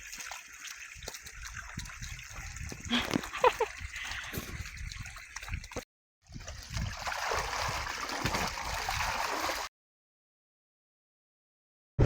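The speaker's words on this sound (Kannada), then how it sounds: "ಯಾವ ಥರ ನೀರು ಬೀಳ್ತಾ ಇದೆ ಅಂತ. ಎಷ್ಟು ದಪ್ಪ ದಪ್ಪ ನೀರು ಬೀಳ್ತಾ ಇದೆ." Water gushes and splashes heavily in a farm field, a loud, rushing spatter with brief breaks, cutting off abruptly before a short final burst.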